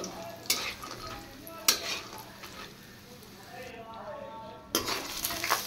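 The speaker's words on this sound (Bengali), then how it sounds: "এবার প্রথমে আমি বড়িগুলো ভেজে নিচ্ছি।" Lentil dumplings fry in oil that sizzles steadily in a pan while a utensil scrapes and clinks against the metal a few times.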